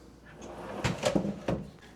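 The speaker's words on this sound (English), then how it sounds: "You have some pull-out drawers." Pull-out drawers in a condo kitchen slide open, giving several short rolling thumps and knocks close by, with no one talking.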